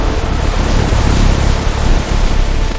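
A stormy sea with crashing waves and howling wind, heard as a dense, continuous roar of surf and gusts at a steady loud level.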